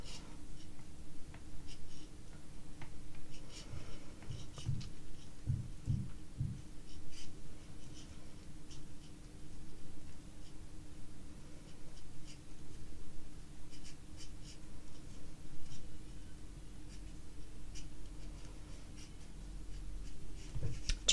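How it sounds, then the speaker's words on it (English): Knitting needles scratch and click softly while a sock heel is worked, making faint, irregular close-up rubbing and tapping noises throughout. "I'm sorry if the needles are scratching a little bit for you guys."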